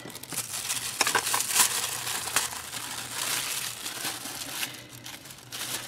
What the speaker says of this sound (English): My blade's not that sharp, but evidently sharp enough to cut this plastic deli wrap.